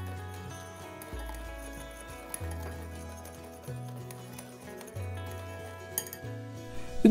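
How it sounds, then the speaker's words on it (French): Dry rice flour, cornstarch, turmeric and salt whisked together in a bowl, giving faint light clinks and scraping against the bowl over quiet background music. "mettez-y votre farine de riz, la fécule de maïs, le curcuma, le sel, et on mélange tout pour avoir un mélange bien homogène"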